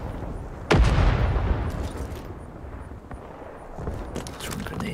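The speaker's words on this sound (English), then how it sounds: "Grenade." A grenade blowing up in the Vietnam-era shooter Rising Storm 2: Vietnam, one sudden loud blast with a long rumbling decay, followed by scattered distant pops and gunfire.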